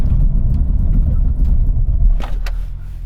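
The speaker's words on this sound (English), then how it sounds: "I'm going to do a full emergency stop from 60 miles an hour." BMW M2 braking hard in an emergency stop from 60 mph: a steady loud road and engine rumble, then a brief squeal near the end as the car halts and the noise settles to a low idle.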